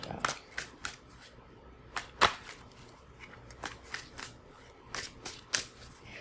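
Tarot cards are shuffled in quick riffling bursts, crisp flicks and snaps coming in irregular clusters, close and fairly quiet.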